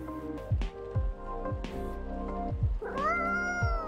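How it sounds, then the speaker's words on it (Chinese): A cat meows repeatedly in the video game Coffee Talk Episode 2: Hibiscus & Butterfly, several short, clear meows spaced out over soft, steady game music, ending with a longer, drawn-out meow. "猫咪又跟他对话哎"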